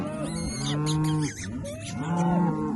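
A cow calling for her calf gives two long, loud, nearby moos, one right after the other, heard alone without talking.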